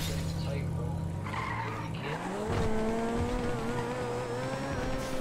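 A car in a GTA roleplay session drives hard, with tires squealing and skidding and an engine revving up into a rising, sustained whine. It is fairly loud and steady, with people talking over it.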